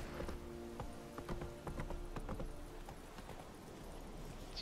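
Roach the horse trotting in The Witcher 3, a steady clip-clop of hooves at a quick rhythm, faint and set against a dense ambient game backdrop.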